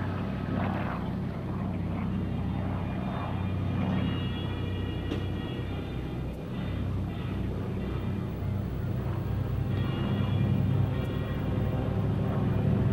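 A TBM Avenger torpedo bomber's propeller engine drones low and steady for the whole stretch, a continuous rumbling hum with slight swells in loudness.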